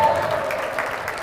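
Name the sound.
audience applause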